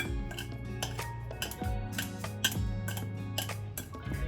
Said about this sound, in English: I'm just gonna take some kitchen scissors that I only use for food, and I'm just gonna chop it up into little bits